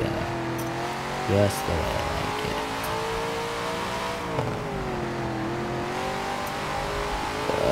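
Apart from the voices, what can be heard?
Dodge Charger accelerating in video game Forza Horizon 4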